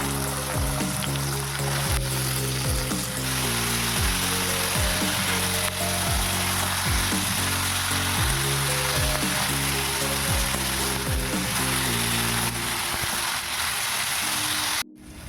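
Potatoes fry steadily in a pan for a Bengali cabbage curry, a loud continuous sizzle close up, with a faint hum and stirring noises underneath and no talk.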